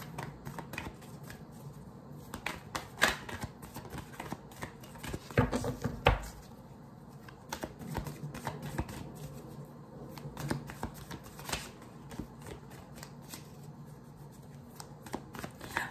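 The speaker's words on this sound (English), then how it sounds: "But then I catch them so they don't come out." Tarot cards are shuffled by hand at close range, making repeated riffling, slapping bursts in an irregular rhythm, with louder flurries midway and no talk over them.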